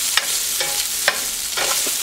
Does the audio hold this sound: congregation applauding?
no